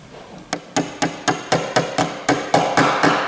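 A hammer taps a track pin home to fix a point rodding crank: about eleven light, crisp, evenly spaced taps, close and clear, with no talking.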